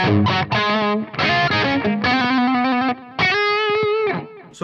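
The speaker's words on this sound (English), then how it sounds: "It's a mono tape, and it's just doing 1 or 2 repeats." Electric guitar through a Fractal FM3 with a mono tape delay set to one or two repeats, lightly distorted chordal and single-note phrases ringing out with soft echoes trailing each attack, played alone.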